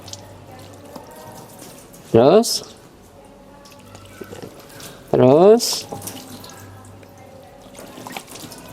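During a ritual washing of the dead, water is poured over a body in two separate short, splashy bursts, close and loud, while people talk quietly between the pours.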